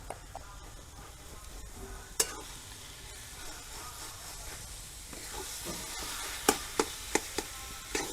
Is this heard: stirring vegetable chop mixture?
yes